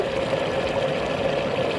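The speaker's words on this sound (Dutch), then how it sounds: "Dit is nu de derde keer dat hij aan het borrelen is met alleen water." An electric kettle with its lid off boils plain water, a steady close bubbling and rumbling hiss that stays even throughout with no voices.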